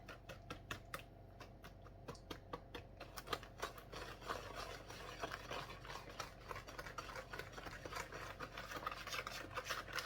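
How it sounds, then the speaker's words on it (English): Lemon blueberry doughnut batter mixed in a bowl, a quiet, close run of rapid scraping and rubbing strokes from a utensil against the bowl, steady throughout with no talking. "Then we're going to mix this."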